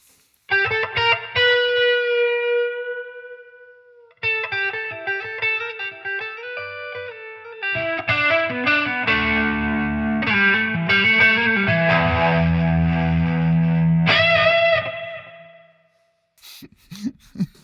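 An electric guitar with active pickups plays on the clean channel through the neck pickup, with ringing notes and chords in several phrases that grow denser toward the end, then fade out before a brief final sound.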